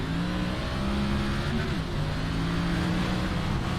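Race cars roaring around the Bristol dirt track in a racing game, a loud sustained engine drone with shifting revs from a close pack of cars.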